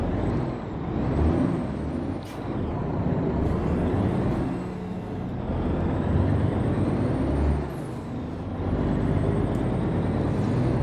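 A Mack R truck engine in American Truck Simulator, hauling lumber, drones with a deep, loud rumble that rises and falls as it pulls through the gears, with brief hissing bursts along the way.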